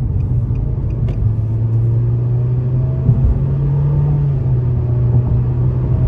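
A 2024 Nissan Kicks S pulls away in sport mode, its engine droning low and rising steadily in pitch as it gathers speed, heard from inside the cabin over road rumble with no talk.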